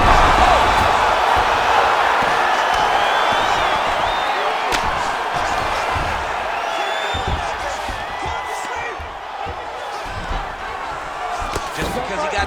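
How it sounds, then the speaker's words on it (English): An arena crowd at an MMA fight roars steadily, loudest at the start and slowly easing, with commentators talking over the broad, continuous crowd noise. "the crowd pops in appreciation as the fighters work their way back to the feet"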